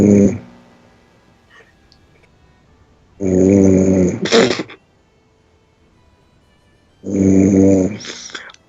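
Three loud snoring bursts from a dog, each lasting about a second and spaced a few seconds apart, rumbling and growl-like, close to the microphone with near silence between them.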